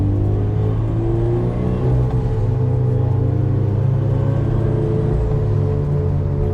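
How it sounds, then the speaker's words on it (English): A turbocharged Subaru BRZ drives along with a steady engine rumble, overlaid by a faint high turbo whistle that rises and falls twice, with no talk. "Got some nice blow-off valve sounds and turbo whistling going on there."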